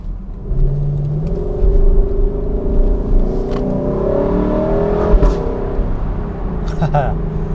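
A 2021 Lexus LC 500 convertible's V8 revs on a night drive, its engine note climbing and falling in close, loud, steady bursts for the whole stretch.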